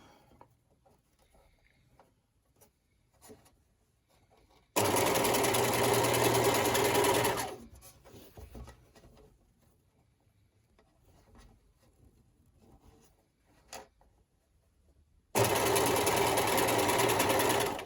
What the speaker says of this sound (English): you're going to edge stitch this. Folding a couple of centimetres and going along.